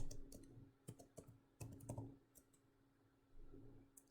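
Quiet, scattered keystrokes on a computer keyboard, a few irregular clicks and short bursts of typing with pauses between them, over a low steady hum while editing in a terminal.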